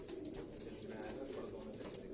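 Jaunsari breed Rani pigeons coo continuously on a Karachi rooftop, low throaty burbles overlapping nearby without pause.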